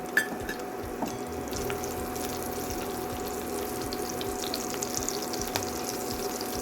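Green chilies and cumin sizzle in hot ghee for sabudana khichdi, a steady close crackle and hiss with small pops scattered through it.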